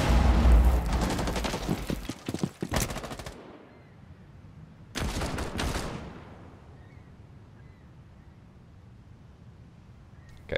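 Rapid automatic gunfire rattles in two dense bursts during a video game gunfight, the first lasting several seconds and the second shorter, with a quiet tail of echo between and after them.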